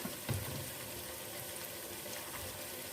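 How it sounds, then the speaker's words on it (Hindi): Masala spice mix frying in a pan gives a soft, continuous sizzling hiss at low volume, with a small bump near the start and no speech. "मसाले को अच्छी तरह से भून लेते हैं"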